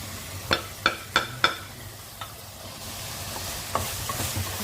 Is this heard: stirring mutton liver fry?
yes